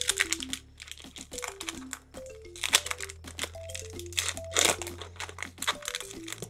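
Pokémon Fusion Strike card pack wrapper being torn open, close crinkling and crunching of foil in quick bursts over a quiet, low background tone.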